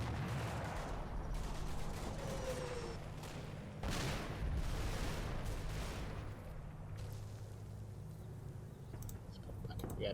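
Sustained gunfire and distant explosions in the WWII tactics game Combat Mission: Battle for Normandy, with steady rumbling volleys and a heavier burst midway, continuous throughout.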